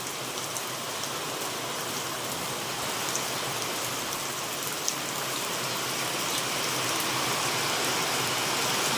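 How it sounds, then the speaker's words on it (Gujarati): Steady rain falling outdoors, a dense even hiss of drops on surfaces filling nine seconds at moderate loudness, slightly heavier toward the end, with no talking. "હજી વાદળા હાલ્યા જાય છે અને વરસાદ વરસતા જાય છે."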